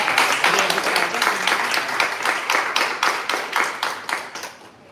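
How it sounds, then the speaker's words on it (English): Applause from an audience at a Mister International Costa Rica 2025 pageant event, a steady crowd clapping with a rhythmic pulse that fades slightly toward the end. "clap naman dyan"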